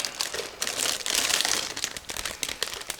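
A plastic bag holding a Miniart 1/35 Panzer IV model kit is opened, giving close, busy crinkling and rustling in uneven bursts, with no voice.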